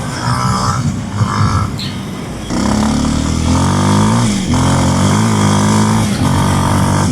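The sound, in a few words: Kawasaki KLX230 motorcycle riding off-road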